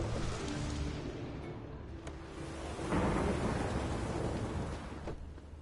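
A thunderstorm with steady rain in The Witcher 3, a broad continuous roar of rainfall under deep rolling thunder that swells louder around the middle, with a brief crack early on.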